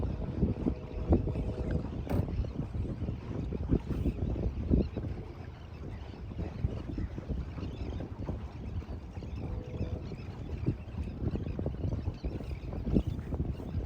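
Steady wind rushing past the microphone while sailing a sailboat up a channel, a continuous low roar with gusty swells throughout and no voices.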